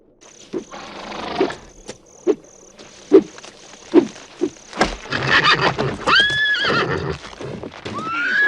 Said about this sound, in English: Pegasus, the last of the winged horses, comes to drink